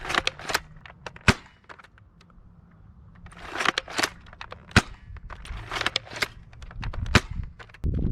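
A Dart Zone Pro MK-1.2 foam dart blaster fires Bamboo 2.0 darts down range, giving sharp single pops scattered among quieter clicks and handling rattles, with several distinct shots heard close by.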